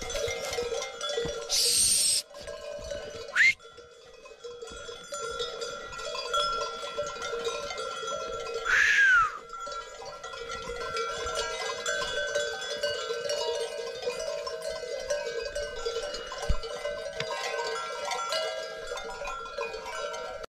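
Livestock bells clank and jingle faintly but persistently from a flock of sheep, with occasional louder bleats breaking through an otherwise steady outdoor background.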